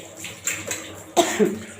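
A couple of short, sharp coughs close by, bursting out in quick succession over quiet kitchen background noise.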